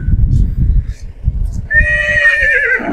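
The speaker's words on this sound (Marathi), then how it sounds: "येवला मार्केटमध्ये घोडे उतरताय हे बघू शकता तुम्ही." Horses being unloaded at the Yeola horse market in Nashik, Maharashtra, with one loud, close whinny rising over earlier hoof clatter and crowd murmur.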